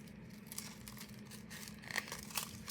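Thin paper crinkles and crackles softly at close range while being handled and smoothed during decoupage, a quiet, continuous rustle with a few sharper crackling spikes and no talking.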